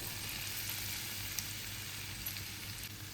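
Finely chopped onions sizzle in melted butter cubes in a pan, a steady close frying hiss with no talk.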